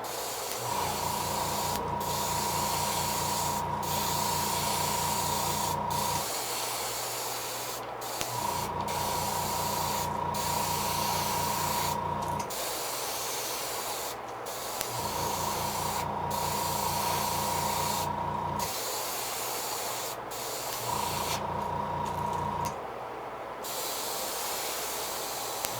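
Paint sprays a new coat onto a purple and gold custom fishing lure in steady hissing bursts of several seconds each, with a low mechanical hum and a thin tone running during each burst and short gaps between them.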